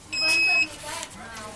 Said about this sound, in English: the device will continue to beep